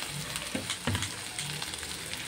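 Poha stir-fried in oil with coriander makes a steady, close sizzle, with soft scraping stirs and light clinks layered over the continuous frying crackle.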